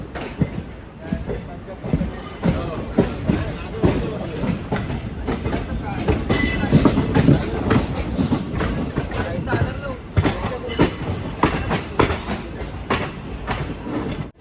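The Shirdi–Dadar Vande Bharat express rolls into Dadar station. Dense, continuous clattering of wheels on track joints rings out with a brief metallic squeal midway, and faint voices mix into the rumble.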